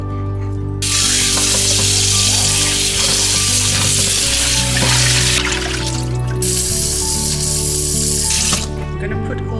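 Food rinsed under a running kitchen tap, a loud, steady gush of water splashing into a sink with shifting spatter as the food is moved under the stream; no one speaks.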